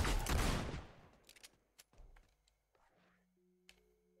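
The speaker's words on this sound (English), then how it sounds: "Oh, it's a shotgun." A shotgun blast in the video game Fable II, one loud, close boom at the start that fades into a decaying tail, followed by sparse faint clicks and a soft low tone.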